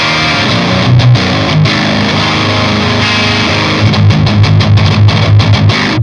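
An electric guitar with the amp gain cranked all the way up plays a loud, heavily distorted plexi-style metal tone, with sustained chords followed by fast chugging palm-muted chops near the end.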